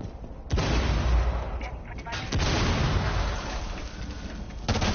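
Grenade explosion in a Pacific-theater war shooter game, heavy booming blasts amid dense gunfire and rumbling battle noise, with a loud burst near the start and another toward the end, under voices of players talking.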